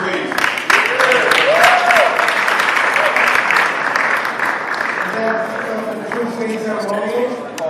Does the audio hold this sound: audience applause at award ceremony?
yes